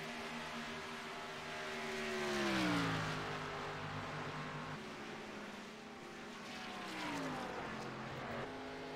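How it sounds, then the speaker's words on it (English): Stock cars racing around a track under the lights, engines roaring steadily with pitch sweeps as cars pass close by, one bumping through lap traffic, the drone swelling and fading with each pass. "you can see Bryce Lewis put the bumper to lap traffic there"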